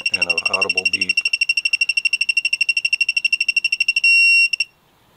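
Rapid, steady electronic beeping from a SUZUME 3/8-inch drive digital torque wrench reaching 16 foot-pounds rings out close by, briefly overlapping a voice at the start, then ends in one longer sustained tone.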